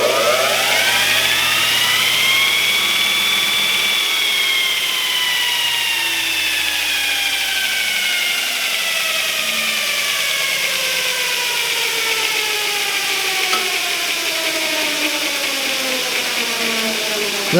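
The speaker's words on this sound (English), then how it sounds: "That little thing will really do some metal sharpening. Wood too, but mostly metal right here." An electric knife sharpener for metal and wood runs in a shop, a loud steady whine that rises in pitch, then slowly falls and drifts as the load changes, with a low motor hum underneath.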